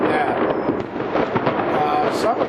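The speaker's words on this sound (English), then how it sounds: "Of course, you got the aerial bombs like that going on." Aerial bomb fireworks bursting at a New Year's celebration, a dense, continuous rumble of booms and crackles that fills the whole stretch, with voices faintly mixed in.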